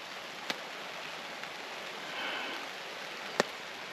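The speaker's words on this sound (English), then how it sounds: "This rain looks like it's going to keep up, at least for a while" Steady rain hissing at a wet, windy campsite during Storm Floris, a fairly quiet continuous wash with a couple of sharp knocks or drips standing out.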